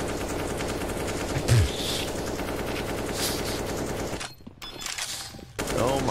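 Rapid automatic gunfire in CS:GO, a dense continuous rattle of shots with a brief pause, heard under a commentator's voice in a NaVi versus Liquid esports match.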